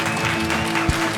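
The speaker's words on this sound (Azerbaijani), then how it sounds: "Xahiş edirəm alqışlayaq." An audience at a comedy show breaks into applause, a brief dense burst of clapping from a crowd.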